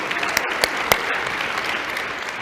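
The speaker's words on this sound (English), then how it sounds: "Y'all give them a round of applause." An audience at a town hall on a college campus claps for its ambassadors, a steady wash of applause with a few sharper, nearer claps standing out near the start.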